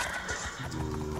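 A horse neighs loudly and close during a horse race in a video game, a full whinny lasting about a second with hooves clip-clopping underneath.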